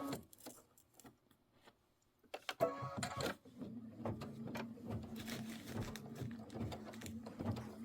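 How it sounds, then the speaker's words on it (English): An embroidery machine stitches the placement outline for a chimney piece on a holiday home tote project, a steady rapid mechanical chatter starting partway in after a quieter stretch and continuing close and even to the end. "We're going to do placement stitch. This is the placement stitch for your chimney."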